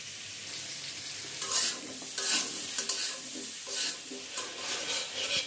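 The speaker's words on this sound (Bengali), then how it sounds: "মাছ দিয়ে আলু পটলের ঝোলের জন্য প্রথমে মশলাটা ভালো করে কষিয়ে নিচ্ছি" Spice paste for a fish curry with potato and pointed gourd is sautéed in a pan, a steady close sizzle broken by repeated scraping stirs of a spatula.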